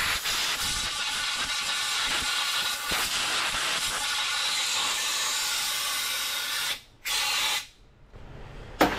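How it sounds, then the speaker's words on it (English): Compressed air hisses loudly through an MCI bus power steering hose in a steady, harsh blast, cutting out briefly near the end and then resuming in short spurts. "So I like to blow out the hose with compressed air."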